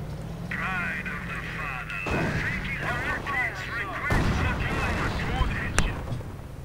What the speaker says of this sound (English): I'm probably firing armor-piercing rounds.